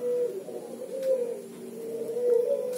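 A turtle dove (burung puter) coos with its gurgling guguk note, a steady run of low, mellow calls that repeats close by with no other sounds around it.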